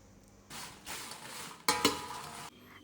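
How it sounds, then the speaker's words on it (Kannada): Black peppercorns roast in a pan with a little coconut oil over a low flame, heard as two short bursts of scraping, rattling stirring with a faint crackle, close and quiet, with no talk. "ಫಸ್ಟ್ ಬಾಣಲೆಗೆ ಕಾಳಿ ಮೆಣಸು ಮಾತ್ರ ಹಾಕ್ಕೊಂಡು ಹುರ್ಕೊಳ್ಬೇಕು."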